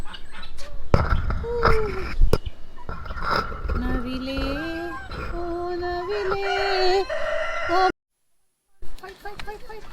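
Peacock calls ring out at the Koktobe hill park in Almaty, Kazakhstan: a run of loud, wavering, tonal cries with distant voices and outdoor bustle beneath them. The sound cuts out briefly near the end.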